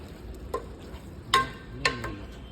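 Chicken curry is stirred in a pan, with a few distinct scraping clinks of the spoon against the vessel over a soft, low background.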